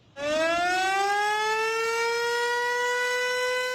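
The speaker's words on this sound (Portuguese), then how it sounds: "onde os moradores contam com sirenes de alerta" A civil defense warning siren sounds from loudspeakers atop a fire department tower, starting abruptly and holding a loud, steady, rising wail alone.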